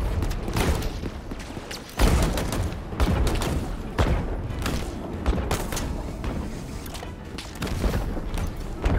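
Enemies pour rapid automatic gunfire in the Halo Infinite campaign, a dense run of loud cracking bursts and thuds that keeps going without pause.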